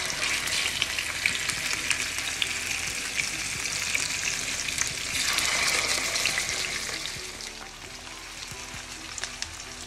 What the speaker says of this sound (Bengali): মাছটা ভাজি হতে হতে আমি